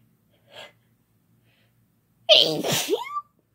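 One loud, forceful sneeze with a sharp explosive burst follows a faint breathy intake, close to the microphone in a quiet room.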